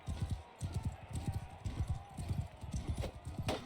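Horses gallop in the medieval battle game Mount and Blade II Bannerlord, a fast, steady clip-clop of hooves pounding close by.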